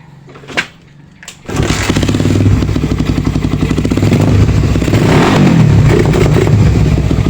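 A carbureted Raider 150 motorcycle engine is kicked and fires up after a couple of short bursts, then settles into a loud, steady, close-up running idle with a rough, buzzing throb that grows slightly toward the end.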